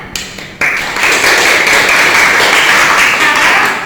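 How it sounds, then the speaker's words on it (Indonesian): Students in a vocational high school classroom clap together after a group presentation. A short burst of dense, close clapping starts after a brief pause and keeps going evenly to the end, with a steady high hiss underneath. "Sudah beri tepuk tangan."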